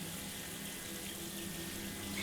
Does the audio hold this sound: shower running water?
yes